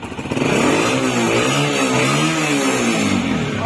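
A motorcycle engine revs hard and steady, loud and close, its pitch rising and falling in waves with a rough mechanical rattle underneath.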